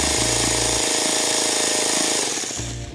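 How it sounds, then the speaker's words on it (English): A Traxxas T-Maxx nitro engine is cranked over with an Easy Start wand, giving a loud, steady mechanical buzzing whir for nearly three seconds with low thumping pulses near the start and end. "I'm just gonna crank it over"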